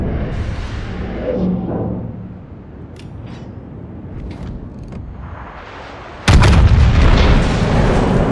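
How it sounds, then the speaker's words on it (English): Naval artillery fire from a warship in World of Warships: low rumbling booms and distant thuds, then a sudden loud, heavy cannon blast that rolls on with a deep sustained roar. "Concentrate fire on the enemy warship."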